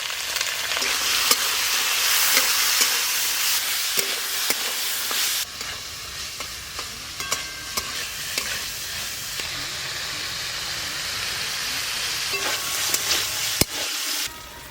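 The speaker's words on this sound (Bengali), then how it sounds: "তেল গরম হয়ে গেছে, সব সবজি একসঙ্গে ভেজে নেব।" Vegetables for a veg dal sizzle loudly in hot oil in a kadai. The steady frying hiss is broken by occasional sharp clacks of stirring against the pan.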